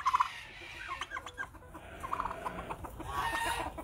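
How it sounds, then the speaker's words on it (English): Farm poultry call out with bursts of clucking and gobble-like warbling, clear and close, arriving in short groups and then tapering off into lighter calls at the end. "Do we get a gobble, gobble, gobble this morning?"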